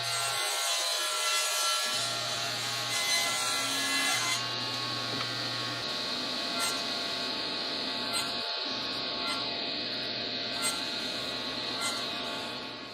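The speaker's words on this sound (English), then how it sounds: "I'm cutting this to 1/8 of an inch thick" Maple wood being cut down to a thin eighth-inch slice with a power saw, a steady continuous whining buzz of blade through wood that runs throughout at an even level.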